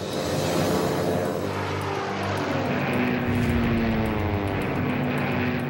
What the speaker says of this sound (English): the first of over 350 Japanese dive bombers, fighters, and torpedo planes sweep out of the Hawaiian sky